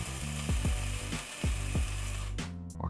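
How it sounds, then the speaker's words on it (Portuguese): A coffee grinder works through beans in a series of ratcheting, grinding strokes, about eight in a steady rhythm, close and fairly loud, ending in a brief higher whir with no talking. "eu costumo moer por 5 segundos, dou uma chacoalhada e movo um pouquinho mais"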